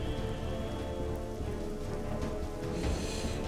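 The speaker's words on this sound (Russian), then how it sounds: "как мне нравится, как здесь дождик шумит" Rain in the video game TMNT Legends patters as a steady, soft, even hiss of drops on surfaces, continuous and unbroken with no talk over it.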